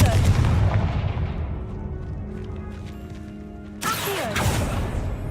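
Confringo spell blasts in the Hogwarts Legacy video game: a heavy booming burst that rumbles and fades, then a second sharp blast near the end, loud against in-game ambience.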